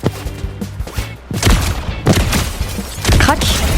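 Sniper rifle fire in Fortnite, with loud sharp game shots and impacts bursting out over the busy gameplay sound of a new season, heavy at around 1.3 and 3 seconds.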